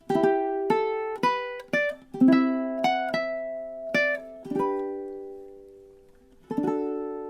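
Ukulele plucks chords with a melody on top, bright strummed attacks ringing out one after another, slowing to a final held chord.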